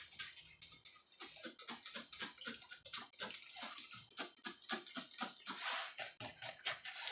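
Water pours onto the soil of a planter in uneven splashes and trickles, close and fairly quiet, with a patchy patter throughout.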